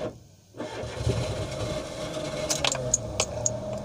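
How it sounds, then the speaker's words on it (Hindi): A petrol car engine cranks and catches after a brief quiet moment, then settles into a steady idle close by, with a few light clicks and taps over the running engine. "ये देखिए फिर से गाड़ी स्टार्ट हो गई"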